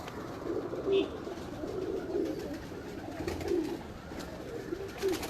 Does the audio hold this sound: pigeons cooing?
yes